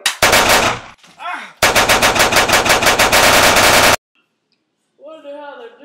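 Machine gun fire in an amateur action movie: a long rapid burst of shots, loud and close, after a shorter opening burst, with a voice shouting between bursts and quieter talk at the end.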